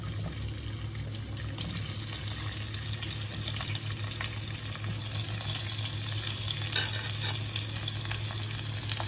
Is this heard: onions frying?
yes